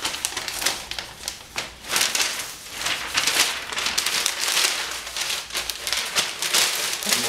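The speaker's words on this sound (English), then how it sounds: "Rolling up the paper." Sheets of a Sunday Denver Post newspaper are rolled up and pressed into place with T-pins and masking tape to build a model mountain, giving a steady close crinkling and rustling with no talk.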